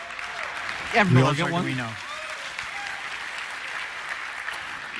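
Steady applause from a large conference audience at Google I/O 2011 greets the Arduino-based Android Accessory Development Kit, continuing under a voice.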